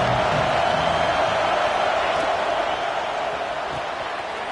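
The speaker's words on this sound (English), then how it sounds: "This crowd ready to make its presence known." A large football stadium crowd at a college game: a dense, steady roar of many voices that holds loud and unbroken, easing slightly toward the end.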